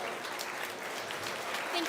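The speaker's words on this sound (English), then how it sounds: "Let's give all these kids one enormous round of applause" Audience applause for kids at a swine showmanship contest at a county state fair, a dense steady wash of clapping from a crowd held at an even level throughout.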